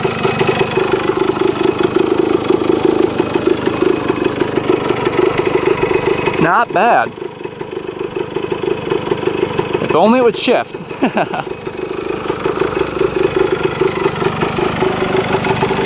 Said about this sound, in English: Yeah, that's idling pretty good.